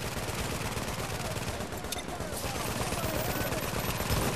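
Sniper rifle and turret fire rattle without pause in The Division, a dense, loud, continuous stream of rapid shots that fills the whole stretch.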